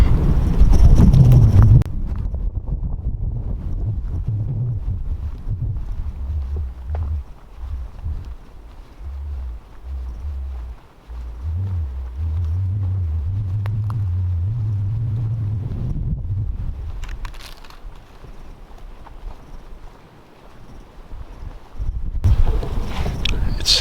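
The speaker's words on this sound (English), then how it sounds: "It's so windy today because there's storms coming in." Steady, heavy wind rumbles and buffets outdoors in Kentucky ahead of incoming storms, low and continuous, with gusts rising and easing and no talking.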